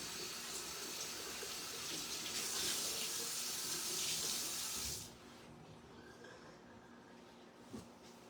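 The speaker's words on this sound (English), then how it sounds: "now I gotta go wash my hands and wash my rag out a minute here" A tap runs steadily into a sink while hands and a rag are washed, a broad splashing hiss that swells louder midway and then cuts off, leaving a quiet room with a faint knock.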